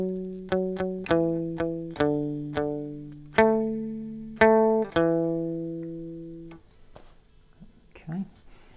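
Electric guitar picks out a melody, palm-muted, in a string of short plucked notes with some held longer, played alone up close, ending in a brief quiet stretch with faint handling noise.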